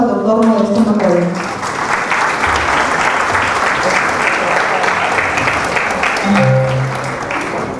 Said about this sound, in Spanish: Recibamos por favor un fuerte aplauso